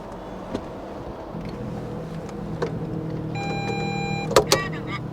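Electric windows hum steadily as they close on a Honda S2000 roadster, a low motor drone with a few sharp clicks and thumps near the end. The car is parked and heard up close, with no speech.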